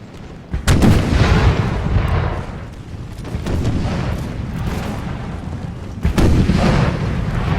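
Cannon volleys in the Imperial Splendour mod video game, Russian army at the Grand Battle of Stockholm: two loud booming volleys, each a sharp crack rolling into a long, rumbling battlefield roar.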